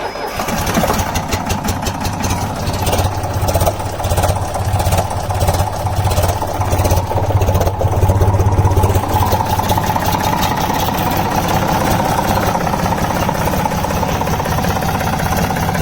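A Waldon 5000 diesel front loader with bad fuel filters cold-starts outdoors in snowy, below-freezing weather after sitting outside, cranking and then catching into a loud, close, rough diesel idle with a knocking rumble that runs steadily on.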